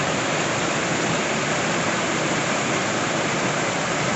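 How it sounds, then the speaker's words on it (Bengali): Mintok Khola, a clear-water mountain stream below Sachen, rushes in a dense, unbroken roar of flowing water, loud and close throughout with no voices. "সাচেনের থেকে একটু নিচে মিন্টক খোলা। স্বচ্ছ জল।"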